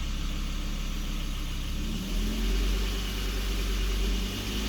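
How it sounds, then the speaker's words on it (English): A Volvo V70 with an accelerator pedal sensor fault sits close by with its engine running, a steady, rather dull idle hum that deepens and settles about halfway through, with no talking. "I'm going to fire up the engine and see."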